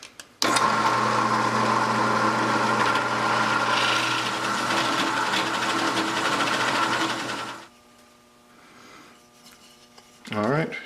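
A 2 5/8 inch Forstner bit bores into a block of rock salt with a loud, steady motor whine and gritty grinding for about seven seconds, then cuts off, leaving a low hum and a brief rustle.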